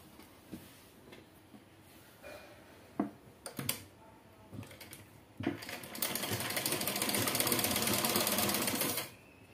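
A sewing machine stitches a four-panel petticoat, starting with a few short bursts and clicks, then running in a steady, fast whir for several seconds before stopping.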